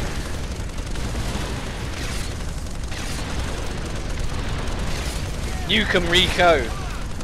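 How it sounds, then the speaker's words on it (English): Dense rapid machine-gun fire rattles in co-op play of Earth Defense Force: Insect Armageddon, with booming impacts layered through, and a voice briefly shouts near the end. "It's a machine gun that does quite a bit of damage,"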